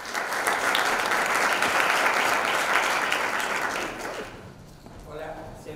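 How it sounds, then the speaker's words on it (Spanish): An audience at a secondary-school STEAM engineering-design talk breaks into sustained, dense applause that holds steady before thinning and fading out near the end, with a few faint voices underneath. "le damos un aplauso"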